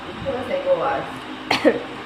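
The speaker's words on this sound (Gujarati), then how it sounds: "મમ્મીને ઉધરસ બહુ આવે." An adult woman, ill with fever and chest pain, gives a few short coughs and throat clears, one sharp burst standing out near the end, heard close against faint background talk.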